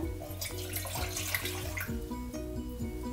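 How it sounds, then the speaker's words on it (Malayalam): Two cups of water pour into a saucepan on the stove, a continuous bright gushing and splashing with soft tonal music running underneath and no speech. "ഇതിലേക്ക് നമുക്ക് 2 കപ്പ് വെള്ളമാണ് ചേർക്കേണ്ടത്."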